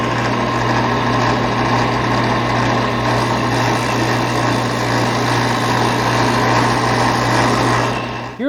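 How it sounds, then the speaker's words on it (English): A disc sander grinds a curved wooden piece smooth, a loud, constant high-pitched motor whine with a steady hum beneath, running uninterrupted before cutting off abruptly at the end. "Now to smooth out that curve on here, we'll use the disc sander."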